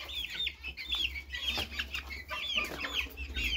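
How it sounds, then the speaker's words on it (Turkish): High chirpy peeping calls from baby chicks repeat in quick bursts, fairly close, in a garden, with a soft low hum underneath and no talking. "Minik civcivlerimiz bahçeye gezmeye çıkıyor"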